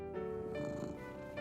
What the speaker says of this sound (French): il aimait encore plus le doux ronron de son chat Gilbert.